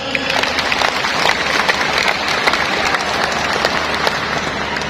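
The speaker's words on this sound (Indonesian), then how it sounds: "Tepuk tangan semuanya." A crowd at a third-anniversary celebration claps loudly and continuously, a dense, even patter of many hands with no talk over it.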